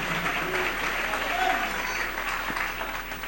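Church congregation clapping during worship, a sustained, dense round of applause filling the room with scattered voices calling out beneath it.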